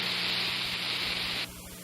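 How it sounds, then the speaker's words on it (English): N-Dust aerosol sprayed onto a dust mop: one steady, loud hissing burst of about a second and a half, cutting off abruptly into quiet room tone. "Spray it with N-Dust"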